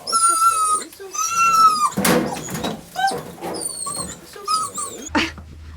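A rescue dog whimpers and whines in high, wavering cries while being bathed, with a person speaking softly over it and a few thumps and splashes between the cries.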